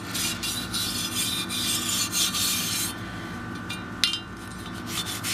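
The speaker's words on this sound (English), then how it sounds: "So just start brushing it off. Brush off all your surfaces." A brush scrubs the outside surfaces of a firearm during cleaning, producing a close, steady raspy rubbing in repeated strokes with a brief sharper knock partway through, no voices.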